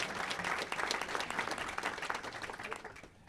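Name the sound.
audience applause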